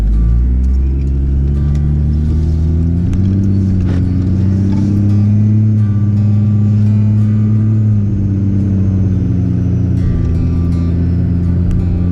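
A Ram 2500 pickup with a rebuilt 68RFE automatic transmission drives on a road test; its loud, close engine drones and rises, and the pitch steps down twice as the gears shift. No one talks.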